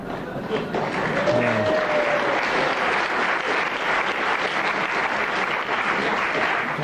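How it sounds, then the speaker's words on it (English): Spectators at the 1996 World Snooker Championship break into a long, steady round of applause that fills the hall at an even level from start to finish. "Big round of applause"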